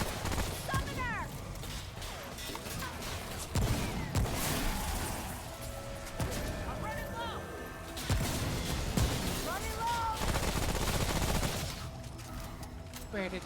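Enemy gunfire in Remnant: From the Ashes, repeated heavy bursts of shots and crashes spread across a busy, loud combat scene.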